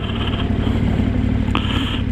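Engine of a KTM 1290 Super Adventure motorcycle while riding, a steady loud drone with continuous rumble and a whining tone throughout, alone without talk.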